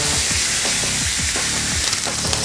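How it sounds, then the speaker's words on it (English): Pork chops sear in hot oil in a pan, a steady broadband sizzle with a few soft clunks and shifts as the meat is flipped, continuous and close throughout. "as I'm flipping these over now, they got a beautiful sear on them"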